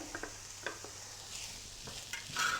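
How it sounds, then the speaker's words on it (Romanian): Onion and pepper sizzle in garlic-flavoured oil in a pan, a soft steady fry broken by a few light stirring scrapes and clinks, fairly quiet and close with no talking. "Acum îi adăugăm ceapa."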